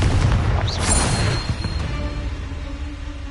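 Confringo blasting spell explosion in Hogwarts Legacy, a fantasy video game: a loud booming blast with a rumbling tail that fades into a low sustained roar, alone without talk.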